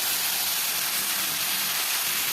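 Taro leaves hitting a hot frying pan with garlic and turmeric, giving a loud, steady broadband sizzle that holds unbroken throughout, with no talking.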